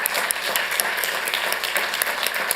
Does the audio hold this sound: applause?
yes